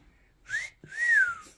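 A single faint whistle sounds during a late-night ghost investigation inside the Murdock-Whitney Mansion: two rising and falling tones, the second longer and stronger, with a soft thump between them in a quiet room.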